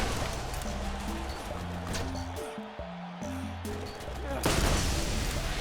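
Rapid gunfire from shooting enemies in the video game Borderlands, with steady bursts of shots layered over a dense, continuous game soundscape of music and effects, loud throughout.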